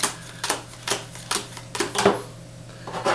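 Dominion playing cards being shuffled by hand, heard as a series of short, fairly close riffling bursts at an irregular rhythm, with no talk over them.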